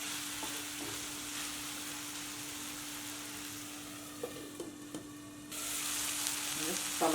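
Spicy hotel-style tomato chutney sizzles softly in a pan as it cooks, with a few scraping stirs of a spoon and a constant low hum, growing a little louder near the end.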